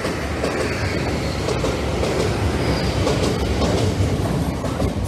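A train rumbles past steadily and close on a diversion via Lincoln, with a dense, continuous roar and faint rhythmic clatter from the wheels, no voices.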